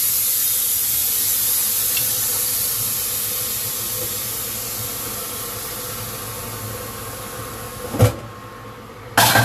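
Steam hisses steadily and loudly from a pressure cooker as its pressure is released after cooking aviyal, a broad continuous rush that slowly fades, broken by a couple of short knocks near the end.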